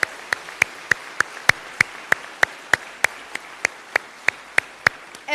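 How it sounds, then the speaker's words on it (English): Sharp, evenly spaced claps at a steady, deliberate beat ring out in a hall during a diaspora conference opening ceremony, honoring a speaker with no voices over them. "may I ask you once more to join me in a round of applause for Leah."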